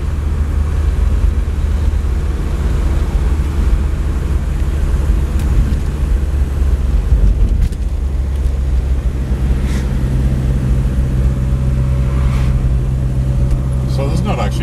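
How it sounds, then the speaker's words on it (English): A 1961 Hillman Minx 111B station wagon trundles along in top gear on a Dunedin harbour drive in New Zealand, its engine a steady low drone with road rumble, heard from inside the car for the whole stretch. "It's quite heavy trundling along in top gear most of the time, third occasionally"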